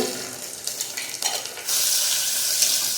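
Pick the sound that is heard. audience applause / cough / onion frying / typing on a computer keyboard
onion frying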